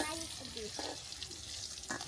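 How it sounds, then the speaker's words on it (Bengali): Sliced pointed gourd (potol) sizzles softly in a frying pan, a steady faint crackle with a few brief clinks of a utensil. "আমি পটলগুলো একটু কেটে কেটে ভেজে নিচ্ছি, যেন পটলটা ভালোভাবে সিদ্ধ হয় বা ভাজাটা ভালো হয়"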